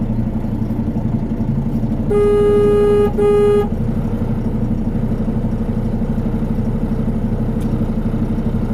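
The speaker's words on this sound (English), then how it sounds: "Now this dump truck is stopping in the middle of the road." A dump truck idling on a rainy road, a low steady engine rumble throughout, with a loud car horn honking twice near the middle.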